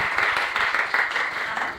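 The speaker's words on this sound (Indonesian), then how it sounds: "tepuk tangan untuk kelompok 1" A high school physics class gives a short round of clapping for a group that has just presented, many hands slapping in a quick, fairly close burst that fades at the end.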